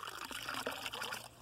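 Dirty water runs from a household tap in a neighbourhood supply, a soft, steady trickling stream, faint and close, with no voices.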